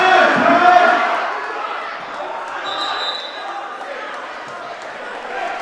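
A crowd roars and shouts in a high school gym during a wrestling match between Bethlehem Catholic and Notre Dame, loud at first and then settling into a sustained murmur, with shoe squeaks and voices mixed in.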